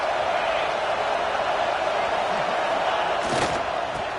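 Dense stadium crowd roar at an American college football game with Ohio State, a loud steady wash of voices from a large audience, with a brief louder burst near the end.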